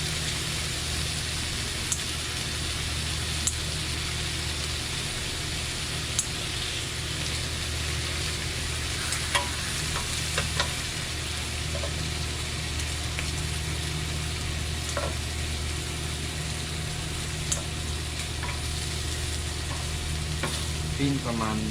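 A steak fries in a very hot pan over a gas flame, giving a loud, continuous crackling sizzle with scattered pops that holds steady for the whole stretch, with no talk over it.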